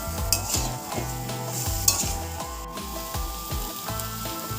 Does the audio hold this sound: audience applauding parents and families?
no